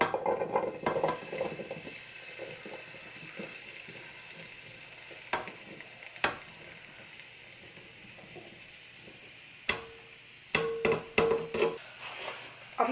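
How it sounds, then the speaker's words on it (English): Meat and cabbage cooking together in a pot for cabbage soup, with a faint low simmer broken by scattered clinks and scrapes of a utensil against the pot, a few sharper knocks near the end. "I'm gonna cook my meat in this pot, and I'm gonna throw the cabbage in there with it."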